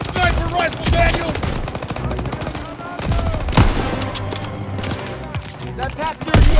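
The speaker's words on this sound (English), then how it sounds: "Everyone open fire!" Rapid bursts of rifle and machine-gun fire crackle loudly through a World War II battle in the Call of Duty WWII tank-escort mission, with shots overlapping densely and a voice calling out amid the fighting.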